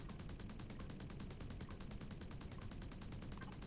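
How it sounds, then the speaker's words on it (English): Rapid, unbroken automatic fire from a turret in the space game Reforged Eden, at a pirate service pad, rattling at a steady fast rhythm for the whole stretch, quiet and somewhat distant. "I need to reconfigure my turret, because it's shooting at everything"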